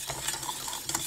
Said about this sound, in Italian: Basta mescolare e abbiamo un'ottima crema